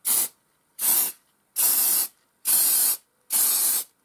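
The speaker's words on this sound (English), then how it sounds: "I'm just going to spray it up." Five short, even bursts of primer from an aerosol spray can hiss loudly onto plastic model sprue in a spray booth, each blast about half a second long with brief silent pauses between.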